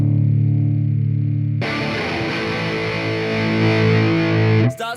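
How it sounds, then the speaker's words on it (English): An Orange Tiny Terror EL84 guitar amp, turned flat out, gives a sustained distorted chord with fizzy power-tube saturation. A cleaner held tone comes first and a sharp cutoff ends it. "Starts to get a bit fizzy as you bring in the power tube distortion, being an EL84 amp."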